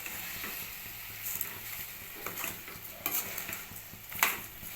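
Chicken pieces with coarse salt and turmeric stirred in a pan, giving soft scraping and light clinks at irregular moments over a low sizzle.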